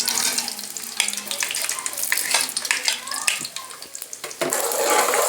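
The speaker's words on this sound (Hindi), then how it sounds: "अब हम इसमें प्याज शामिल कर देंगे।" Onions are added to hot ghee and fry with a loud, crackling sizzle, close and continuous, with bursts of spattering and stirring scrapes throughout and no talk over it.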